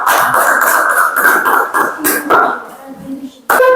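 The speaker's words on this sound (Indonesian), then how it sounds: "Beri tepuk tangan buat kelompok 3" Classroom applause for a student group: a burst of many hands clapping at once, dense and close, fading out after a few seconds as voices take over.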